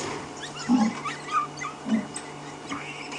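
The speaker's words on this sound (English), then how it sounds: "wattled starlings are calling from this tree" A flock of wattled starlings calls from a tree on an evening safari drive, giving soft, puppy-like whimpering notes in short scattered bursts over a quiet, low background hum.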